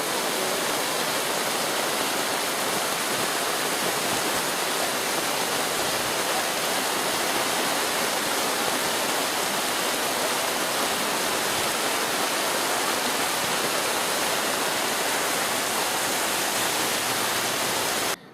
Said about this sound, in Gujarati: વલસાડ શહેરમાં સાંબેલાધાર વરસાદને પગલે